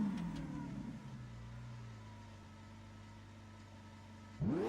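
A Lamborghini Phenomenal engine holds a steady, fairly quiet drone with a clear harmonic tone, then swells into a sudden louder rev at the very end.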